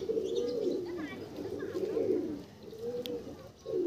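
Pigeons in a loft coo in repeated low, rolling phrases, close and steady across the whole stretch, with a faint chirp now and then.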